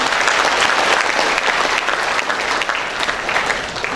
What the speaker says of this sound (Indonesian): Kita berikan aplaus kepada kampus kita